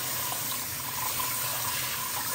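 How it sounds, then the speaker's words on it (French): Cold tap water runs steadily over noodles being rinsed in a sink for spring rolls, a continuous close hiss and splash with no pauses and no talking. "N'hésitez pas à bien les rincer à l'eau froide"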